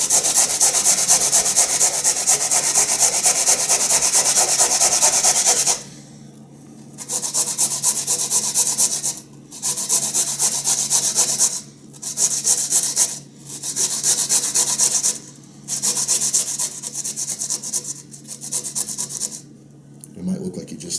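A horseradish root is finely grated by hand in steady back-and-forth bursts of close, loud rasping, each stroke a dense scratchy rub separated by brief pauses.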